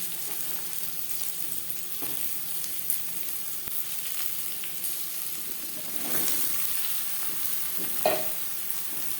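Eggplant pieces fry with onion in a hot pan, a continuous close sizzle broken by a few scraping stirs and a louder clatter near the end.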